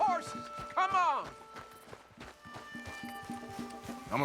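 Horses walking in the video game Red Dead Redemption 2, soft, regular hoof thuds in a slow rhythm beneath voices talking and a brief whinny-like tonal sound.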